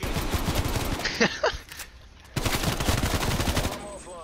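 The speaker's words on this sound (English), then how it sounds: "I'm shooting some volleys" Gunfire rings out in Call of Duty: Cold War multiplayer: two loud, rapid automatic volleys, separated by a brief quieter stretch with a few isolated shots.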